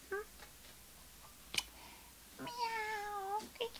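A couple of soft, close cat meows, the last one longer and drawn out, with a faint click in between.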